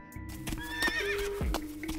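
A zombie horse whinnies loudly with a wavering, rising neigh, with clip-clop hoof sounds underneath, close and clear.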